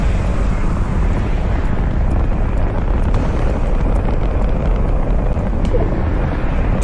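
A missile launch in the video game Fortnite, its thruster firing: a loud, steady, broadband roar like a rocket or jet engine that holds without a break for about seven seconds and stays alone with no talk.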